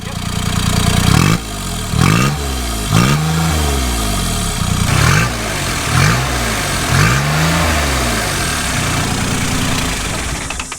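Kubota RTV 900 utility vehicle with an added turbo and an exhaust dumping straight off the turbo, its engine loud and close, revving in repeated surges that rise and fall over a steady idle.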